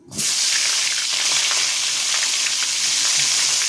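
Cauliflower coated in salt and turmeric drops into hot oil in a pan, bursting at once into a loud, dense sizzle that holds steady and close for several seconds with light crackling.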